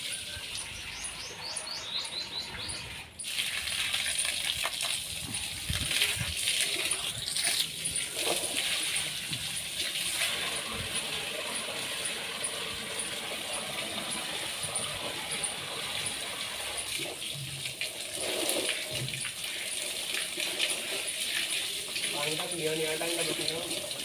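Water is poured over cattle on a farm to cool them in hot weather, making a continuous hissing splash for the whole stretch, with birds chirping and voices in the background.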